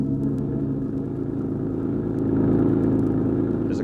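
A car engine drones and rumbles steadily during a radio-drama highway chase, a low continuous motor hum with faint clatter, swelling slightly toward the end and heard without any speech.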